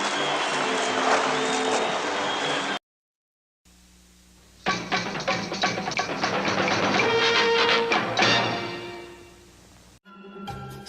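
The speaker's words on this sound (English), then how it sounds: "They're getting a good round of applause from their own booster club" Applause from a traveling booster club from Charlestown at a hockey game in Peterborough, a dense clapping crowd swelling for several seconds amid arena noise, with breaks of silence around it.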